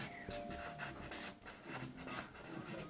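A pen scratches across paper while a Class 10 maths problem is worked out, giving a steady run of close, soft, rasping strokes with short pauses between them.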